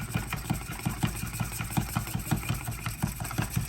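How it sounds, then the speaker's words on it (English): A steady motorized whir with a rapid pulsing rhythm, close and continuous, from a small handheld frother frothing hot chocolate. "It's like a handheld immersion blender."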